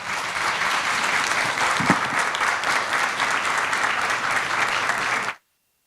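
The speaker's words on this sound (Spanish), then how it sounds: "un aplauso para mis colegas" An audience at a hydrocarbon-sector sustainability talk gives its speakers a sustained, loud round of applause lasting about five seconds before it cuts off abruptly.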